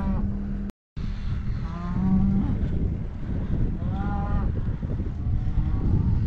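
Cattle mooing repeatedly as a herd is gathered from pasture, several drawn-out calls at moderate distance over a steady outdoor background, with a brief dropout early on.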